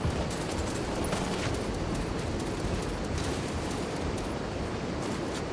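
Sustained gunfire from a video game rattles in a dense, continuous barrage at moderate loudness, with no voices over it.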